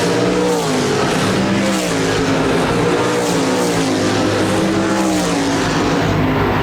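RaceSaver sprint cars and SportMods roar around Park Jefferson Speedway, a dirt track, with several engines droning loudly together and pitch rising and falling as they race.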